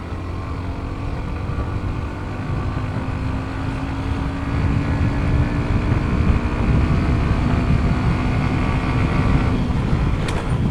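A Hero Xtreme motorcycle rides along a road, its engine a steady, loud drone with a constant low hum and a slight rise in intensity midway, with no voices.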